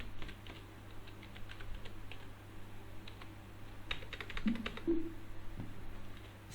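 Typing on a computer keyboard during accounting data entry, a quiet run of soft irregular key clicks close by over a low steady hum, with no voices.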